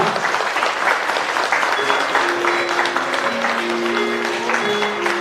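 Guests at a Vietnamese international wedding ceremony clap loudly and continuously for the bride, with a sustained melody of music playing beneath the applause.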